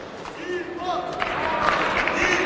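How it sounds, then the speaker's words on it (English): Excited crowd at a World Tour Grand Finals table tennis match between Koki Niwa and Dimitrij Ovtcharov, a rising murmur of cheers and scattered clapping swelling in the arena, with a voice over the top. "The crowd getting quite excited here."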